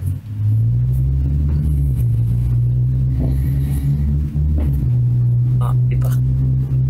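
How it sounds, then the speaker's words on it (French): Road traffic outside a home, with cars passing on a nearby road, makes a steady, loud low rumble that runs through the whole stretch, with faint voices now and then over it. "Jack, on entend la route chez toi, là. Voiture ou un truc comme ça."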